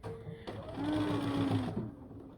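A sewing machine running a quarter-inch seam on a quilt binding, acting fussy; a short steady mechanical whir of stitching, close and fairly quiet, starting and stopping within a couple of seconds.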